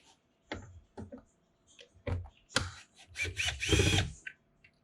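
A power drill backs screws out of a 2011-2016 Subaru Impreza door panel in short whirring bursts, close by and moderately loud, with small clicks and handling noises between the runs.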